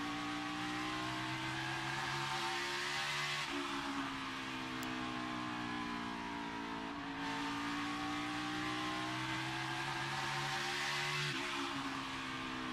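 A NASCAR Cup Series race car at a night race roars steadily at high revs, its engine note rising and dipping through gear and throttle changes as it laps the track, loud and continuous without talk.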